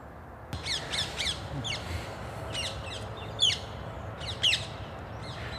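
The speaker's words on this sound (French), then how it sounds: "celle qu'on vient d'entendre, c'est les perruches à collier" Rose-ringed parakeets call along the Bièvre, an urban river in Île-de-France, with repeated shrill squawks in short bursts over steady outdoor background noise, some calls louder and nearer than others.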